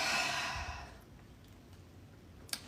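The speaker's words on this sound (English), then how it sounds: "Breathe in and breathe out." A single deep breath in and out, a soft close sigh-like exhale fading over about a second, followed by near silence and a brief faint click.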